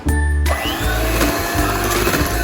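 Electric hand mixer whirring loudly and close as it beats calamansi juice into egg whites for an orange chiffon cake, a steady motor drone with beaters rattling against the bowl, no talk.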